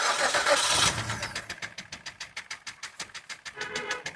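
A 2016 Maruti Suzuki Baleno, just back from a service, starting up: a cranking burst followed by a regular rapid ticking engine rhythm close by, with no talk.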